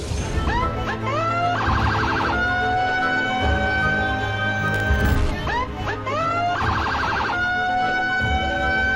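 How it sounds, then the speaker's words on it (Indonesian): Road emergency vehicle siren blaring close and loud, rapid rising whoops and warbling wail bursts repeating in cycles, with a horn-like blare between. "suara sirene atau strobo ini menuai protes dari banyak warga"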